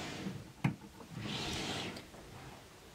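A wooden drawer knocks once and then slides open with a soft scraping glide, nearby and fairly quiet.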